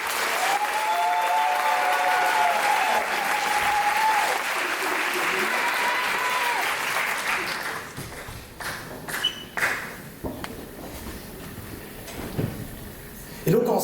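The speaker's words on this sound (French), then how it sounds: "un tonnerre d'applaudissements pour Damien Rigosby." An audience at a public-speaking contest breaks into thunderous applause, dense and sustained for several seconds under a voice, then thins into scattered claps and shuffling knocks before fading.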